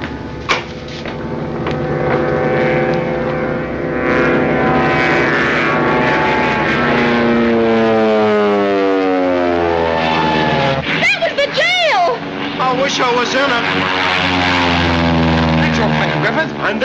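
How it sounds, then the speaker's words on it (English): A stolen 1930s propeller plane drones loudly overhead. Its pitch sweeps downward as it passes, then climbs again in rising whines, with voices talking under the engine noise. "That's your plane, Griffith. And they stole it"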